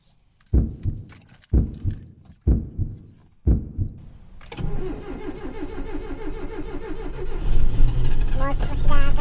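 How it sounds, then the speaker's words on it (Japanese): A Mitsubishi Lancer EX Turbo engine is cranked several times with short, separate starter bursts before it catches and settles into a rough, loud idle that builds in revving. A voice speaks briefly over the running engine. "それではいよいよエンジンをかけます。"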